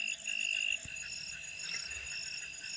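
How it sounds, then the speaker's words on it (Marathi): Frogs croak and trill in a steady chorus, joined by a high insect drone, with no voices present. "बेडकांचा आवाज"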